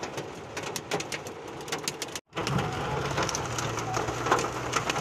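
Hail from a tornadic supercell near Lake of the Ozarks hammers down in a dense, irregular barrage of sharp impacts, loud and close, with a brief silent gap partway through before the pounding resumes.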